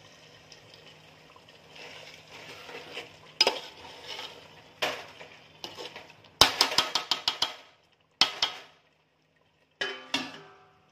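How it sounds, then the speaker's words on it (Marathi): Chicken for biryani cooks with a little water in a covered pot, a faint low simmer broken by scattered louder clinks and scraping stirs of a spoon against the pot. "आता चिकन असं शिजवून घेऊया."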